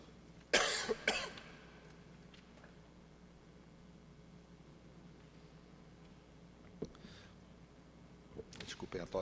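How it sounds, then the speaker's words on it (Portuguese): A person with a cold coughs twice in quick succession, close and sharp, during a public hearing, followed by a quiet room with faint shuffling and another small burst near the end. "Desculpem a tosse"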